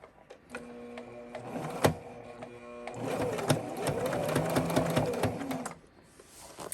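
A sewing machine stitches a stocking in a steady, fairly slow mechanical whir with a rhythmic needle chatter, close and continuous for most of the time, with a few clicks before it starts.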